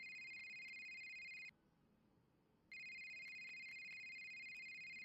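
A phone rings with a clear electronic ringtone, two steady bursts of tone separated by a short silent pause, fairly quiet and alone.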